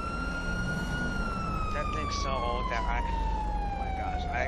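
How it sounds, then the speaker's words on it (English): A police car siren in the GTA 5 video game wails steadily, its pitch sliding slowly downward under faint game background noise, moderately distant, with no talk over it. "he's got his sirens on, man"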